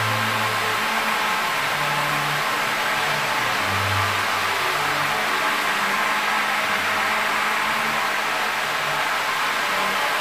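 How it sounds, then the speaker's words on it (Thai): A 24-volt electric fan, powered from a battery connected to a solar charge controller, runs steadily with a constant loud whooshing hum, close and continuous throughout. "เดี๋ยวเรา เอาแบตออกก่อนนะครับด้วยการใช้ พัดลม24โวลต์นะครับ"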